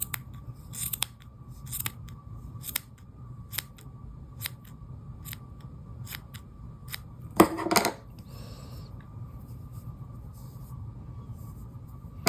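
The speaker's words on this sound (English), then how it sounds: "I'm going to trim the ends of my tassel to make sure they're all even." Scissors snip through the ends of a crochet yarn tassel with a dozen or so short, crisp cuts in an irregular rhythm, close up, followed by a brief rustle of handling and quiet room tone.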